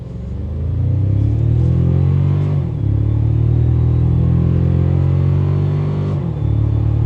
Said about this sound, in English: lag makes this heavy truck feel surprisingly quick off the line